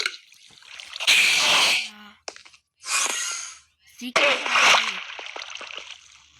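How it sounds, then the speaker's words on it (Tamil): Someone falling and splashing into water, with bursts of sloshing and splatter separated by short gaps, heard close, while someone speaks briefly. "தண்ணியில் விழுந்து அடி வாங்குறான் போலுது மக்களே."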